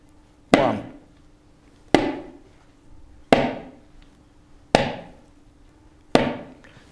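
Five crisp, staccato 'te' strokes on tabla, each a sharp dry slap that dies away quickly, spaced evenly about a second and a half apart, close and alone with no talking.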